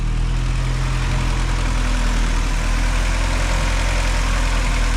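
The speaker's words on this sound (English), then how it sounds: "the car's been running for a minute. Let it get up to temp" A Mk2 car engine idles steadily while warming up after an oil change, a loud, even low rumble with constant vibration and no speech.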